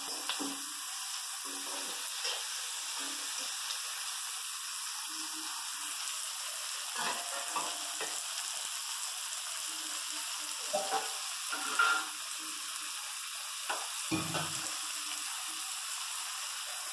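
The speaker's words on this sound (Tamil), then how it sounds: "உப்பு போட்டால் நல்லா வதங்கிடும் சீக்கிரம்" Onions and seasonings sauté with Himalayan salt in a pan for rava upma, giving a steady, close sizzle with soft stirring scrapes and no talking.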